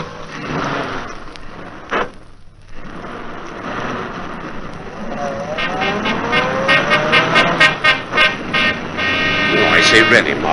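A car driven fast and recklessly through city traffic in a vintage radio drama, its engine roaring and rising in a steady wash of noise while voices talk over it.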